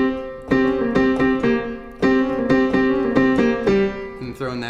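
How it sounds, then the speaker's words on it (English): Fast blues piano riff with an added G, repeated chords and notes hammered out in a lively, evenly pulsing pattern, loud and close with no voice. "If you add that G in it and you go fast, it sounds like this."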